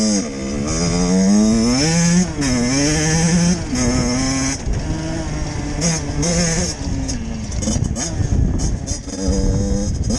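A Beta 50 RR enduro motorcycle engine revs hard and close, its pitch rising and falling in repeated throttle blips over a steady buzzing drone.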